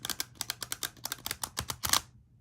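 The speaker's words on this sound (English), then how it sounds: "what you're doing is you're getting a really good randomizing shuffle to the cards." Tarot cards are riffle shuffled, giving a rapid run of crisp, close flutters and clicks that speeds up into a dense burst before stopping abruptly.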